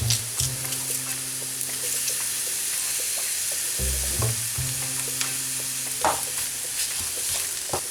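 Garlic cloves fry in butter with a constant bright sizzle and occasional clinks and scrapes of stirring. A low steady hum runs underneath, and nobody speaks.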